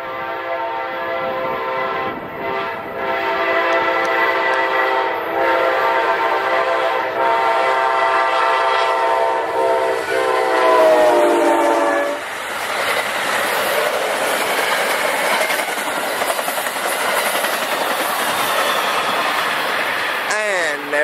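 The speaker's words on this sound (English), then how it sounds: "here comes Amtrak 92, the Superstar, northbound by micro." Amtrak's Silver Star passenger train passes close by, a loud, steady rumble of wheels and engine with a sustained horn blast that cuts off midway, followed by continuing rail noise.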